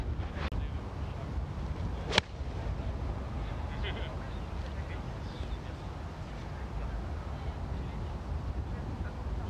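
Strong wind buffets the microphone on a golf course in a continuous low rumble, with a couple of sharp clicks near the start.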